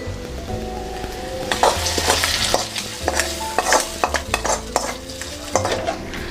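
Tempering being stirred into a pot of bisibele bath gives soft sizzling and repeated scraping, clinking stirs of a spoon against the pan, close and moderately loud, with no talk.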